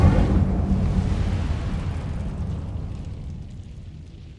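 A fiery burst from the Incendio spell in Hogwarts Legacy erupts loudly at once, then rumbles and fades away over several seconds, a whooshing blaze of game fire.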